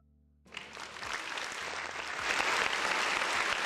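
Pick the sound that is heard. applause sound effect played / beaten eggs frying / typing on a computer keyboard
applause sound effect played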